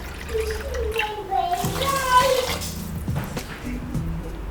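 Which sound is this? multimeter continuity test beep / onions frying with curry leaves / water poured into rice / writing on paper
water poured into rice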